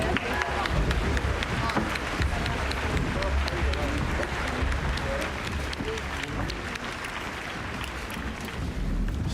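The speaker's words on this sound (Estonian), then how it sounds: "ma palun aplausi, Tartu Ülikooli sümfooniaorkester" Outdoor crowd at a Tartu city day concert applauding the university symphony orchestra, a steady wash of clapping with street traffic and crowd murmur mixed in.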